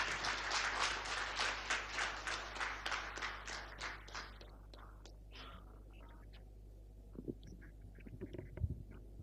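Audience clapping at the 2024 Global Rice Summit at Taj Krishna Hotel, Hyderabad, welcoming a Telangana minister: dense, moderately distant applause that thins out and fades after about five seconds, leaving scattered claps and quiet room noise.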